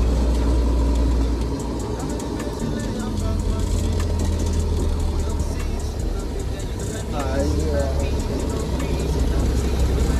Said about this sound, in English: It's gonna be loud. It's a truck.